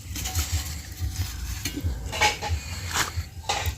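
A cake pan is set into a sand-filled oven pot on a charcoal jiko stove, giving close scraping, gritty shuffling and light metal clanks in irregular bursts, with a few sharper knocks toward the end.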